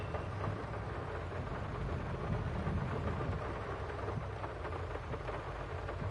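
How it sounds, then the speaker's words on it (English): Rain drums on a truck cab roof in the video game Farming Simulator 22, a steady low rumbling wash of noise with a dense pattering texture, continuous and even with no talk. "God, the rain sounds so realistic."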